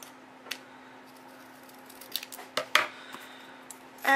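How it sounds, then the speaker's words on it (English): Scissors snipping off a paper flap while making a pinwheel, a few close, crisp cuts and small paper rustles over a quiet background with a faint steady hum. "I'm going to go ahead and I'm going to cut that off."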